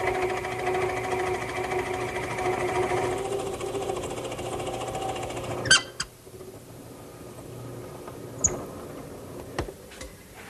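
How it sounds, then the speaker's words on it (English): A drill press drilling wood hums steadily for several seconds, then cuts off, followed by a few sharp isolated clicks and knocks in a quiet room. "And I'll do all that at the drill press."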